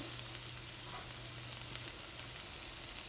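Chili flakes added to a pan of cooked carrots, onions and green chili sizzle with a steady, dense frying hiss, close and continuous throughout, with no talking.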